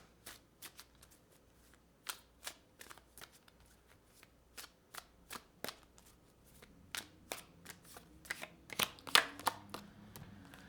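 Tarot cards are shuffled by hand in a quiet room, a series of sharp, separate card snaps and flicks at irregular intervals that quicken toward the end, close and isolated with no talking.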